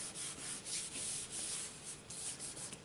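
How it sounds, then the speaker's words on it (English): A card layer is rubbed down by hand onto a card base, making a continuous, soft, close papery rubbing with gentle rhythmic swells over a few seconds. "I'm going to put it down and just rub it nice"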